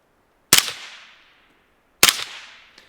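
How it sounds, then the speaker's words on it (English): Two sharp suppressed gunshots from a small Dead Air Mask suppressor, close and loud, spaced about a second and a half apart, each with a short ringing decay, followed by a faint metallic tick. "That does a fantastic job as such a little bitty suppressor"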